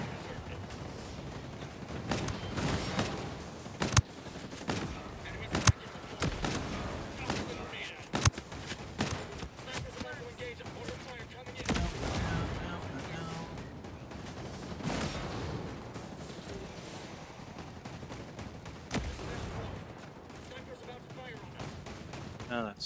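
Shotgun blasts in Ghost Recon Breakpoint ring out as sharp, loud bangs at irregular intervals, some in quick pairs, over constant game ambience and other gunfire, with a voice talking throughout.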